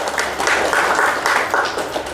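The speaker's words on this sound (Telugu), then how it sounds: "మేడం చప్పట్లు కొట్టండి" Audience clapping at a spiritual talk, a brief dense patter of many hands, steady and fairly close throughout the short stretch.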